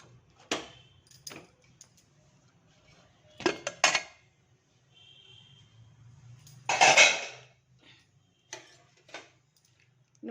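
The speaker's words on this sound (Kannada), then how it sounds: "ಇವಾಗ ಮುಚ್ಚಳ ತೆಗಿಯೋಣ." A cooled pressure cooker lid is opened in a home kitchen, with several sharp metallic clanks and clicks of metal on metal spaced between quiet pauses.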